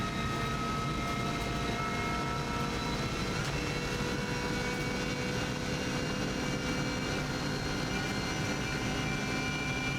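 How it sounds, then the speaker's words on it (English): A helicopter flies overhead during a TT motorcycle lap, its steady airborne engine drone running unbroken beneath heavy, constant wind and engine roar. "Helicopter always comes into sight here, you can see that above."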